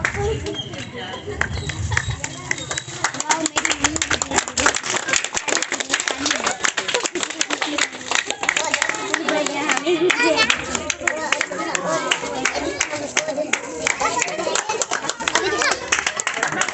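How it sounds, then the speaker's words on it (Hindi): Villagers in Banhora clap at a welcome ceremony for a wrestler returning from abroad with an international medal, rhythmic crowd clapping running steadily under music and a voice speaking over a loudspeaker. "जोरदार तालियां बजती रहें।"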